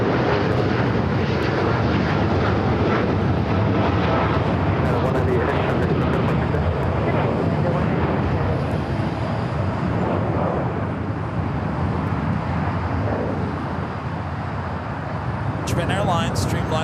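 Fiji Airways Airbus A350-900 jet touching down on the south side of LAX, a loud, continuous engine roar holding steady throughout.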